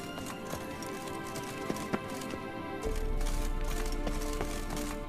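Horse hooves clop and gallop in The Witcher 3, the Kelpie mount moving at a fast, regular rhythm. The steps are clear and near, over steady game ambience that grows a little louder partway through.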